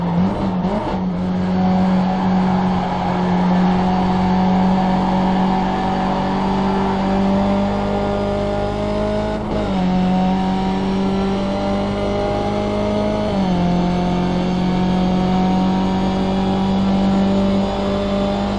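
Race car engine circling Watkins Glen in iRacing, a loud steady drone held near throughout, with pitch dips and shifts as the throttle eases through corners before powering out again.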